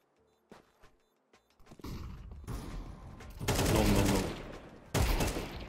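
Gunfire in the video game Counter-Strike 2: a few faint clicks, then loud, close sustained bursts of automatic fire with a short break before a final burst.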